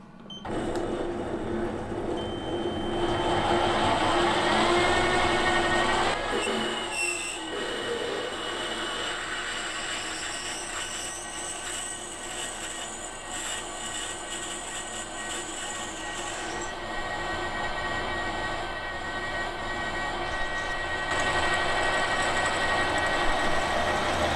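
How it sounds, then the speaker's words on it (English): A drill press runs a 23/64 inch bit into a small V-twin engine crankshaft, making a steady mechanical whir with a high whine that shifts slightly as the cut progresses, continuous and fairly loud with no talk. "So now I'm going to use this 23/64 drill bit to drill 3/4 of an inch."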